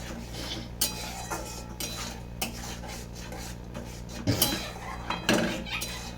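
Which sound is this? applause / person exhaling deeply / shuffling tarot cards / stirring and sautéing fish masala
stirring and sautéing fish masala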